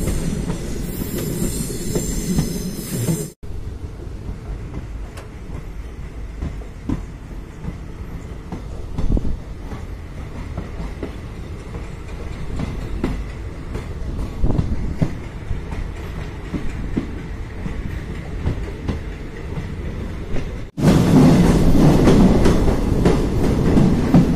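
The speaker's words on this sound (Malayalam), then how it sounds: "അങ്ങനെ നമ്മുടെ ട്രെയിൻ മുൻപോട്ട് വളഞ്ഞു പോയിക്കൊണ്ടിരിക്കുകയാണ്" Diesel locomotive train on the Kollam to Sengottai line rolling steadily on its rails through a nature route, with continuous wheel rumble and clickety-clack, squealing wheels, and louder bursts at the start and end, no talk.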